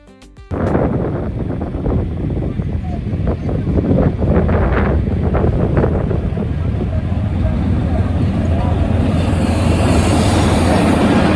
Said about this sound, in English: The old sugar train became the Scenic Railway and now serves as a tourist train.